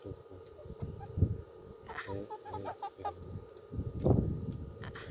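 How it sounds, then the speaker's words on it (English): Chickens cluck in bursts, a few clucks close by and others softer, with a louder cluck near the end over a busy farmyard background. "These chickens are so inquisitive."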